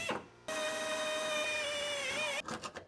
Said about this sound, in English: I'll drill our pilot holes in the rear frame rail.